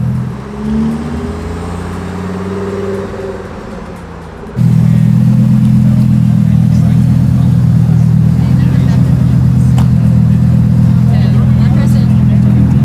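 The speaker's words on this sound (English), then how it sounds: "Here it is, the Huracan STO." A Lamborghini Huracan STO's engine idles with a low, steady rumble that jumps abruptly to a loud, sustained drone partway through; someone speaks over the quieter opening.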